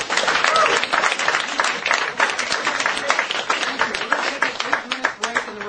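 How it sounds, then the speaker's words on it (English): An audience at a live magic performance and lecture breaks into sustained applause, dense clapping that fills the room and gradually thins toward the end. "Big round of applause for Bob and Rebecca, please."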